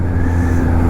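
Supercharger whine from a Kawasaki H2 motorcycle while riding, a steady engine drone with a thin high whistle riding above it, loud and continuous over the short stretch.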